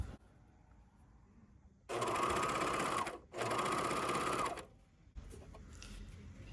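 A Juki MCS 1700 QVP coverstitch machine stitches slinky fabric in the round, running in two loud, steady bursts of even mechanical whirring with a short stop between them, against a quiet room.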